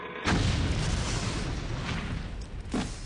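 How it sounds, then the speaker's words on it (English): A church blowing up, rendered as a loud explosion sound effect: a sudden broadband blast that sustains as a rumbling roar for about three seconds, with a second burst near the end. "the Holy Cross Church blew up at exactly 7:35 p.m."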